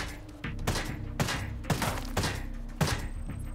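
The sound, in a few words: gunshots in video game Ghost Recon Breakpoint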